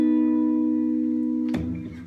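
An acoustic guitar chord from a song rings out sustained and clear, then a fresh strum lands just before the end.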